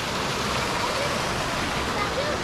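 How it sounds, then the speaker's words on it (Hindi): A mountain river flows and gurgles in a steady, broadband rush of water, continuous and fairly close with no pauses. "कल कल निनाद करती हुई नदी"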